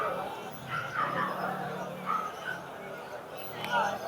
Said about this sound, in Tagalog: Itong ganda ng aso dito.